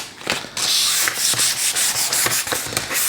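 Hand sanding a Sub-Zero refrigerator panel with 320-grit sandpaper, brisk back-and-forth scratchy rubbing strokes in a steady rhythm, close and fairly loud with no talk.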